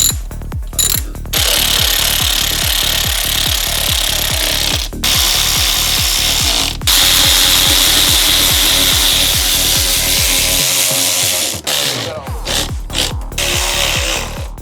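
Rapid, steady mechanical rattling of a power tool fastening bolts while a turbo downpipe is installed on a BMW, with a few brief pauses and bursts, loud and close throughout.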